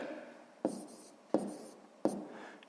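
A pen writes numbers on paper during a sixth-grade maths exercise: three short, crisp scratching strokes, quiet and close, spaced evenly apart with soft scraping tails.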